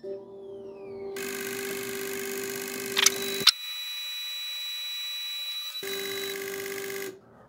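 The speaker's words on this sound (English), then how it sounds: "Medium speed spray valve test in 3, 2, 1." Fuel injector cleaning machine running a medium speed spray valve test: a steady electronic buzzing drone with rapid pulsing, briefly interrupted by sharp clicks, then a quieter hum before the buzzing resumes and cuts off.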